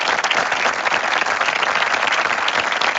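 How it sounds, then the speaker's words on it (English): Online community call audience applauding a presentation, dense continuous clapping that stays loud and steady for three seconds. "presentation deserves a round of applause"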